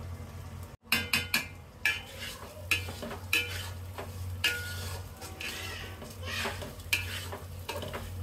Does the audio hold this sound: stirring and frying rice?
yes